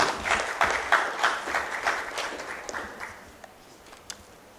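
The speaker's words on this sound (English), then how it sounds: "Can you please make that applause for him a lot louder," Audience applause for a guest speaker at a conference, a fairly loud burst of clapping that steadily fades to a few isolated claps.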